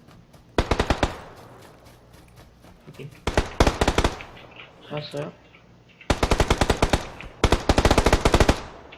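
Rapid bursts of automatic gunfire from the video game PUBG: Battlegrounds, several volleys with pauses between them, and a brief voice speaking during a gap.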